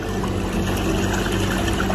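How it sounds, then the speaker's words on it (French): A babbling-stream recording plays from a phone in a pocket inside a cellar, a continuous muffled rush of flowing water, steady and fairly loud throughout with no talk. "j'ai une vidéo YouTube de bruit de ruisseau qui tourne"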